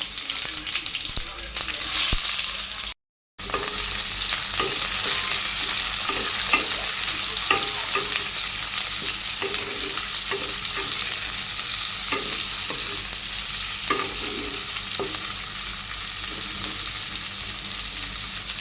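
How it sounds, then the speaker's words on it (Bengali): Bay leaf, dried chilli, cloves, pepper, cinnamon and onion fry in hot oil with a steady, loud sizzle throughout, broken by a brief gap of silence and punctuated by light scraping stirs. "তেলটা গরম হয়ে গেছে, তেজপাতা, শুকনো লঙ্কা, লবঙ্গ, গোলমরিচ, দারুচিনি সব দিয়ে দিলাম।"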